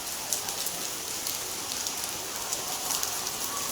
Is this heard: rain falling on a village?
yes